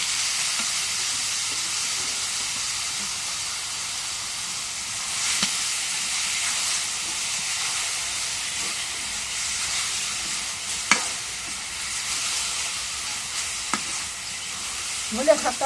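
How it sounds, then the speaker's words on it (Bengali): Onion, garlic and chili frying in hot oil give a continuous loud sizzle, with occasional scrapes of stirring and a few sharper clinks. "পেঁয়াজ রসুন পেঁয়াজ মরিচ ভাজা হয়েছে"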